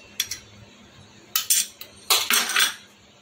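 A metal spoon scrapes and clinks against a pan while mixing Bengali chicken kosha, with a few short bursts of stirring separated by brief pauses, close and crisp.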